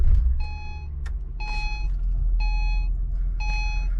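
A high-mileage 2012 Acura TL is push-button started: a brief low engine rumble settles into idle while a series of evenly spaced electronic chime beeps sounds over it.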